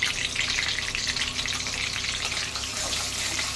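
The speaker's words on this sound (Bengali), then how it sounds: "এবার ওই তেলেই আমি গরম মশলা ফোড়ন দিয়ে দিচ্ছি" Whole garam masala spices hit hot oil left from frying prawns and crackle and sizzle loudly and close by. A dense, steady frying hiss runs throughout with no talking.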